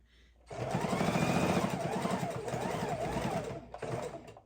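A sewing machine stitches a fabric soup bowl cozy up close, running in one steady whirring burst of about three seconds, pausing, then giving a short final run.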